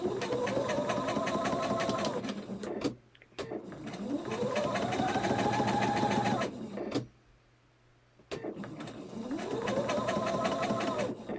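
A sewing machine stitches a quilt block, running in steady mechanical bursts of rapid needle clatter with short pauses between seams, close and fairly loud.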